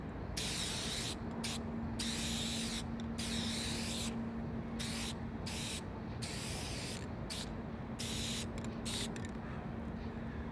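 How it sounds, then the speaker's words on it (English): Steady bursts of hissing from a spray paint can, several long sprays separated by short gaps, close and continuous. "it's not a wide spray on the quick color, but it puts out a lot of paint"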